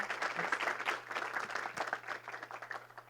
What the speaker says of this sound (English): So round of applause for our valedictorian.